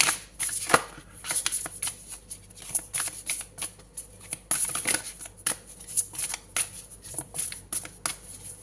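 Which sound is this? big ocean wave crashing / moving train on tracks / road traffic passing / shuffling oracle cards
shuffling oracle cards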